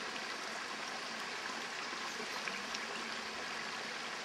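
A river flows past a stone in the Bulgarian countryside as a steady, broad rushing hiss that stays constant and fairly close throughout, with no voices.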